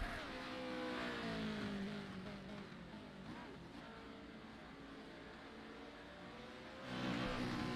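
Pro 4 race car at speed during practice at Crandon, engine note rising and falling continuously, loud and fairly close, with a sudden surge at the end.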